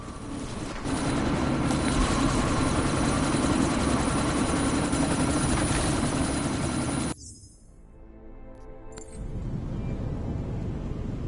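A video game helicopter roars with a loud, steady rotor drone and dense whine for about seven seconds, cuts out abruptly to near silence, then a fainter rumble returns near the end.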